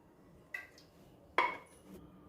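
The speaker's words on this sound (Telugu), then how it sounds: "ఇప్పుడు స్టవ్ మీద ఒక కడాయి పెట్టి దీనిలో కొద్దిగా ఆయిల్ వేద్దాము" A kadai pan set down on a home kitchen stove before oil goes in for dal khichdi, giving two brief metallic clanks, the second louder, in a quiet room with no talking.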